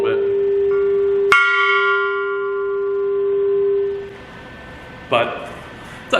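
An anvil on a stand rings with a single sharp strike, then holds a long bell-like tone that fades away. A few quieter knocks follow near the end.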